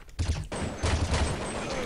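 Video game gunfire crackles in short rapid bursts, a quick volley followed by a brief pause and then another longer fusillade, loud and close.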